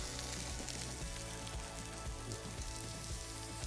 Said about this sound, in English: we're going to put these in with a sizzle